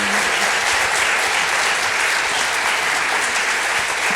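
Steady, dense audience applause for artist Alison Saar after an artist conversation, a continuous wash of clapping at even loudness from start to finish with no voices over it.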